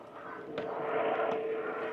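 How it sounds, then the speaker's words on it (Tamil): An ambulance helicopter passes overhead, a steady broadband rotor and engine drone that swells slightly toward the middle and stays fairly loud throughout, with no talk over it. "ஹெலிகாப்டர் ஆம்புலன்ஸ் போகுது."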